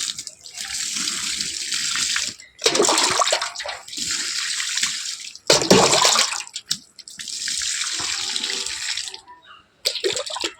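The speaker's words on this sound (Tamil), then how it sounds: "அப்படியே தண்ணீர் கொஞ்சம் ஊற்றிடலாம்" Water is poured in several bursts onto a freshly planted kai valli tuber set beside a drumstick (moringa) tree, each splashy pour loud and close with short pauses between them.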